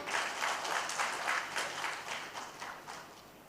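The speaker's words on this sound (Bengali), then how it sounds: "সবাই প্রফেশনাল পাবলিক স্পিকার্স ফোরামের জন্য জোরে একটা করতালি" An audience claps steadily at a public speaking forum event, a dense crowd applause with rippling hand claps that holds at a fairly even level for a few seconds before easing slightly.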